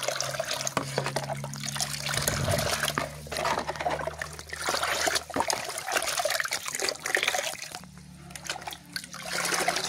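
Water is stirred in a container to mix a rooting solution for patchouli seedlings, giving continuous close swishing and trickling with small splashes, steady throughout with no talking.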